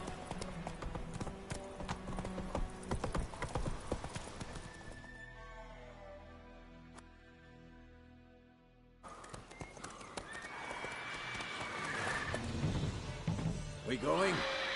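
Horse hooves clip-clop in The Witcher video game, a steady rhythmic trot heard close. A whinny rises partway through, and the hoofbeats drop out briefly before returning under louder game sounds.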